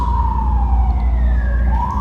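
Emergency vehicle sirens wail continuously downtown, a rising and falling tone sweeping over steady low traffic rumble, fairly loud and close throughout with no talking.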